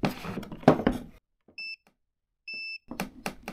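A Thermal Master P2 non-contact voltage tester, rolled to the hot side of an outlet, gives two short, clean electronic beeps close by, with talking just before and after.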